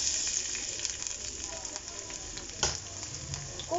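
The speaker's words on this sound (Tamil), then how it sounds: "எண்ணெய் சூடானதும் இந்த மாதிரி கட் பண்ணி வச்சுக்கிற வெங்காயம் சேர்த்துக்கலாம்." Steady oil sizzle with crackling pops as onions fry, a brief louder burst of spitting partway through.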